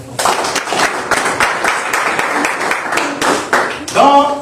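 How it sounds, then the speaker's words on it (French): Audience applause at a company presentation, lively bursts of clapping from a modest crowd with a voice breaking in near the end. "Applaudissez encore très fort."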